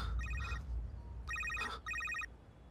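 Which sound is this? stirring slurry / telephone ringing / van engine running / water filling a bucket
telephone ringing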